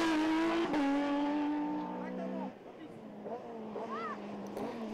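Ford Fiesta rally car wheels spinning without grip on a rally stage, an engine revving high and wavering while the tyres fail to bite, fairly faint and distant, under commentary.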